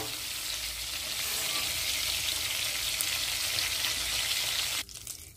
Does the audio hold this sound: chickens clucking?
no